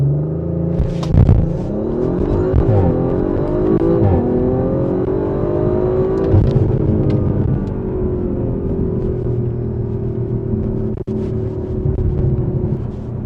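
An Audi RS5 Sportback engine revs hard in a launch and pulls through rising gears, a loud sustained roar with pitch climbing and dropping across shifts, heard from close up.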